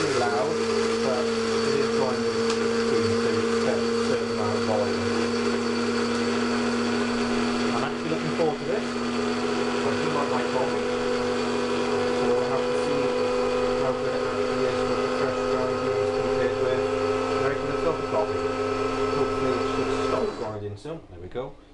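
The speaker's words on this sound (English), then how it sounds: "So let's put it on grinding beans, and fingers crossed, let's see just how loud it is and how long it takes." A Jack StoneHouse 2-in-1 grinder drip coffee machine grinds coffee beans with a loud, steady motor whine and rattle that continues without a break for about twenty seconds, then winds down abruptly.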